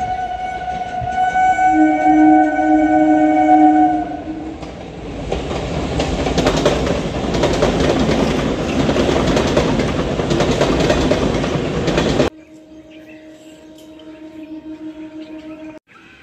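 A train enters a station on the down line. A long horn blast is followed by loud close rumbling and wheel clatter for several seconds, then the sound drops away to a quieter scene with another tonal call.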